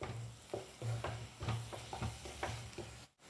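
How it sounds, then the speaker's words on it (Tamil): Chili powder and turmeric sautéed in a pan for egg gravy, a soft sizzle broken by rhythmic spoon scrapes about every half second, faint and close with no talking. "நம்ம எடுத்து வச்சுருக்க குழம்பு மிளகாய் தூள், இதை நல்லா ஸ்மெல் போகிற வரைக்கும் வதக்கி விட்டுக்கோங்க"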